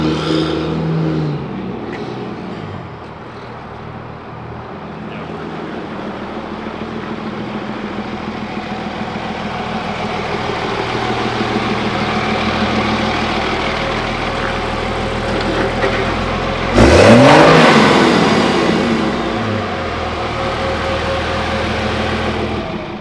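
A truck engine idles steadily, then revs up sharply in a loud burst near the end before settling back to a rumbling idle.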